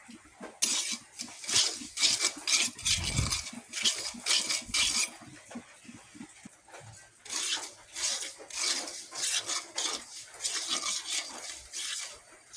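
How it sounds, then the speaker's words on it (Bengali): Semolina dry-frying in a pan, stirred with a metal spoon: rhythmic, close scraping and rasping strokes come in bursts separated by brief quieter gaps, with light clinks of utensil on metal and no speech. "সুজিটাকে ভেজে নেব"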